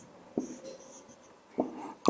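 Chalk or marker strokes on a board during a chemistry lesson, a few short scratchy bursts spaced about a second apart, close and fairly clear, with no talk over them.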